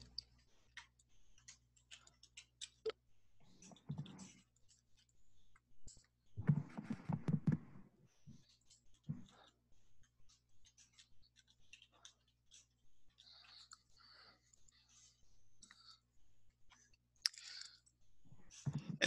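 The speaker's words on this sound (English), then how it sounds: "I guess I'll type it in manually." Faint, scattered keystrokes tap on a computer keyboard in quiet bursts, with a few louder clusters of rapid clicking between pauses.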